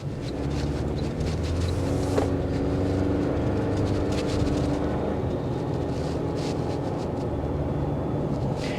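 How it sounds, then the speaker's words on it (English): Steady low engine rumble with a throaty exhaust drone from a 2024 Toyota Tacoma SR5 pickup truck, continuous and fairly loud throughout, no talking. "The exhaust note is not as refined as the V6"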